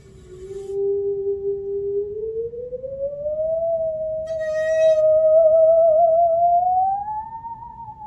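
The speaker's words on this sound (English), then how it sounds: "I'm going to use this bow and go along the edge of the saw." A bowed musical saw sings one eerie, pure tone that glides slowly upward with a slight wobble, sustained and clear, with no voices.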